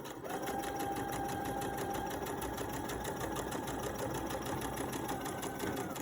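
Sewing machine stitching a fabric face mask seam, a fast, even mechanical whir with rapid needle ticks running nonstop, close and steady, no talking over it.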